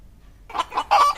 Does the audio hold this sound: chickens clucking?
yes